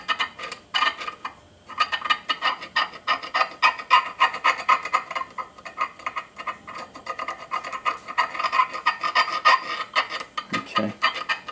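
A steel scribe is drawn along metal on a homemade overhead-valve Briggs engine part, scoring a line. It makes repeated close, dry rasping strokes in an uneven rhythm for about ten seconds.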